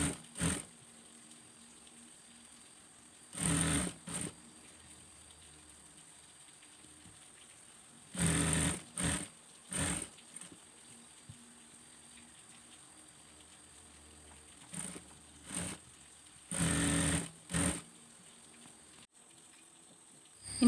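A sewing machine stitches a small child's black abaya in several short, separate runs of close mechanical whirring, each lasting a second or so, with quiet pauses between them.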